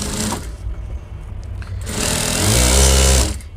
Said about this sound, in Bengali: এই মেন পার্ট দেখে এটা আমাদেরকে সেলাই দিয়ে নিতে হবে যাতে কম বেশি না হয়ে যায়